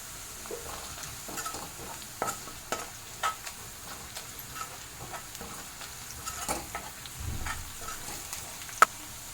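Curry leaves and green chillies sizzle and crackle in hot oil for a Marathi-style dahi tadka, a soft, steady frying hiss with scattered pops and light stirring throughout, no voices.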